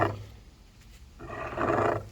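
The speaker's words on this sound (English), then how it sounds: "try to turn the transmission by turning the shaft here. But man, that sounds horrible." The shaft of a 2000 Toyota Camry A140E automatic transaxle is turned by hand, producing a harsh, close grinding groan in two bursts with a quieter gap between them.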